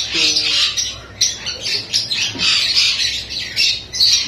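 A pet parrot squawks loudly and harshly in repeated bursts, close to the listener, with no talk over it.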